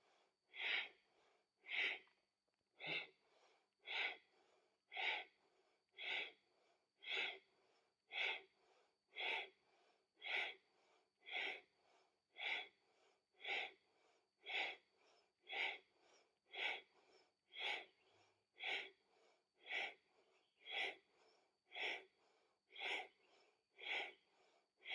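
Rapid rhythmic breathing during a yoga breathing exercise, about twenty sharp evenly spaced breaths in a steady pulse, close and moderately loud with no talking.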